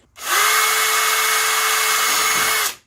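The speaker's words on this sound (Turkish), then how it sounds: "Şimdi ilk olarak matkap yardımıyla şu kırılan yerin birazcık gerisine güzelce küçük deliğimizi açıyoruz." A power drill bores a small hole into a broken plastic pedal car, running as one steady, loud high whine for about two and a half seconds before stopping, with no talk.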